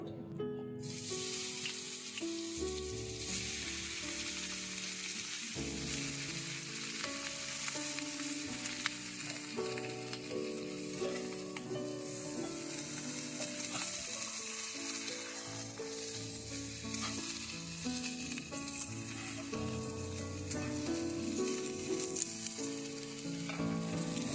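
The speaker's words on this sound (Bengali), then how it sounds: "এবার বেগুনগুলোকে আমি ওই তেলে ভেজে নেব।" Slices of eggplant fry in oil with a steady broadband hiss and crackle that lasts the whole time. Tonal background music plays over it, and no voices are heard.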